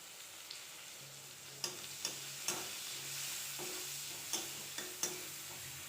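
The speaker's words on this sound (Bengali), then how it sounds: "এবার কড়াইতে তেল দিয়ে বেগুনগুলিকে হলুদ ও লবণ দিয়ে ভালো করে লাল করে ভেজে নেব" Eggplant pieces fry in a wok of oil with turmeric and salt, giving a soft, steady sizzle with a few sharp ticks and clinks from stirring spread through it.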